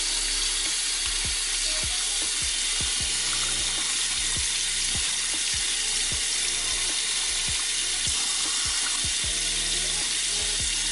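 Tap water runs steadily into a kitchen sink while a lobster is cleaned out, a loud continuous rush with scattered knocks and clatters from handling, and no speech.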